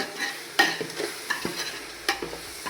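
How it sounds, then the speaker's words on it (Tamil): Yogurt being stirred and sautéed in a hot pan for chicken curry, with soft sizzling beneath intermittent spoon scrapes and sharp clinks against the pan, close and without talk. "இதையும் நல்லா வதக்கி விட்டுட்டு அப்புறமா கறி சேர்த்துக்கலாம்"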